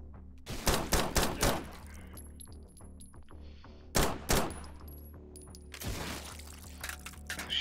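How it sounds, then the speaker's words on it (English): Gunshots in a video game fired at a bottle, with a rapid cluster of sharp shots, a lone pair a few seconds later, then another crack followed by a bright glassy shatter and scattering debris, no voices. "I think I can shoot the bottle itself and it'll"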